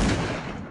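A dense burst of loud video game gunfire in Call of Cthulhu, shots overlapping into a continuous crackle with no pauses, close and sharp.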